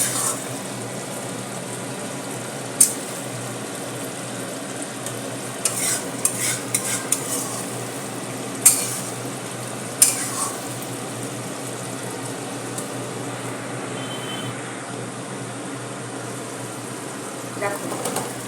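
Pointed gourd simmers in a yogurt curry in a pan, with a continuous soft sizzle and bubbling broken by occasional sharp scrapes and knocks of a spoon stirring.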